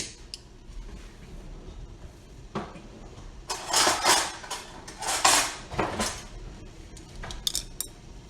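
Chopsticks turn bagels over in a pot of boiling water, giving short clattering knocks and scraping clicks in a few loud bursts over a steady low bubbling, with no talk.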